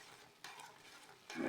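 Vegetable ghee foaming in a pot is stirred, giving a soft, steady sizzle and scrape that jumps louder at two points, with no talking.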